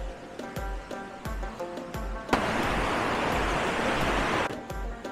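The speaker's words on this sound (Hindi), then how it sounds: "पानी का शोर और पानी की खूबसूरती" A mountain stream in the Kumrat valley rushes loudly, surging into a broad, steady roar about halfway through after rhythmic thumping, heard close by without talking.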